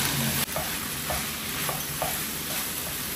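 Salt, turmeric, Kashmiri red chili powder and green chili paste are mixed together for vegetable seekh kebab, with steady rhythmic scraping strokes roughly every half second over a constant background hiss.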